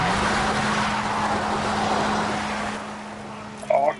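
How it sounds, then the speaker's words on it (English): In the video game Far Cry 6, a vehicle takes off with a loud, roaring engine and a steady hum, which fades near the end before a brief sharper noise. "now when you took off, it sounded like a jet engine"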